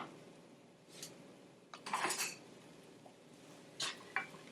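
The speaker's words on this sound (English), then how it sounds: "we're going to add in our onions and our mushrooms" Onions and mushrooms tumble into a preheating pan with a few soft clatters and scrapes, faint and close, without any sizzle of oil, then a brief stir and a couple of light knocks.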